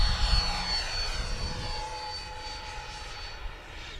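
A Freewing F-18 90mm electric ducted-fan RC jet, powered by a 6000 mAh LiPo, roars past on a flyby, a loud whining rush that sweeps downward in pitch as it passes and slowly fades.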